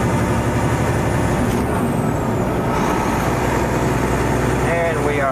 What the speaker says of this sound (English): Well, the truck moves okay.